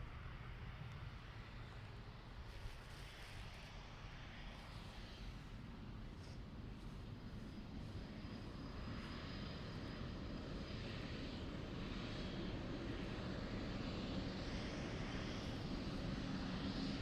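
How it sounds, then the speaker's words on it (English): A Qatar Airways Boeing 787 Dreamliner arriving at Dublin Airport after a flight from Doha, its jet engines a broad, steady roar that builds slowly and grows louder as the airliner approaches, with no talking. "Dreamliner coming in from Doha."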